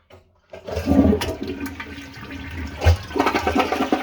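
A Kohler 1.6 gallon hotel toilet flushes in a rushing, gurgling burst that swells quickly, then keeps draining and refilling loudly at close range, with no voices.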